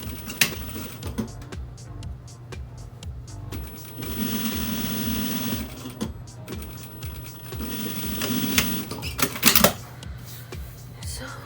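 A sewing machine top-stitches a reusable fabric face mask, running in two short bursts of fast mechanical whirring between scattered clicks and handling noises, close and moderately loud.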